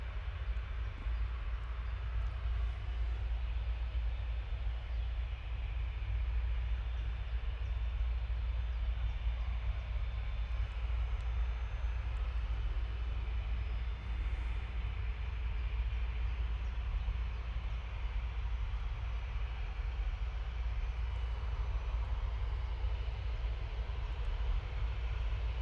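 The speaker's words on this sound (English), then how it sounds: "See the air tanker just lumbering around the corner there." An air tanker aircraft lumbers around a taxiway corner at Manchester Airport, giving a constant low engine rumble with a flat, unchanging wash of noise over a long stretch and no talking.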